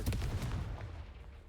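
A Confringo spell is cast in Hogwarts Legacy, giving a sharp booming burst with a couple of quick cracks up front, then a rumble that trails off.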